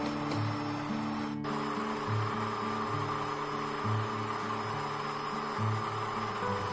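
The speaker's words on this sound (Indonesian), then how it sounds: "Untuk lamanya proses mixer ini bisa berbeda ya, tergantung dengan mixer masing-masing." An electric mixer beats cake batter in a steady, close motor whir with a faint rhythmic pulsing as the beaters turn through the bowl, continuous throughout.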